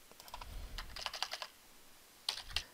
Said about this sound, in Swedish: så skriver jag